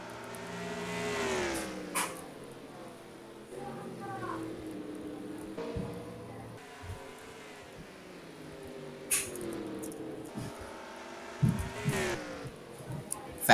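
Simulated race cars from NASCAR Racing 2004 hum and drone through heavy lap traffic, engines rising and falling at moderate distance, with occasional sharper passes.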